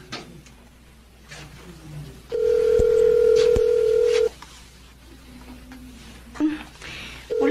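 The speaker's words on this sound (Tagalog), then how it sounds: "Tawagan ko kaya si Sally." A telephone being dialed indoors at home, with a few short tones, then a long steady dial tone for about two seconds, followed by more brief beeps, all fairly loud over quiet room background.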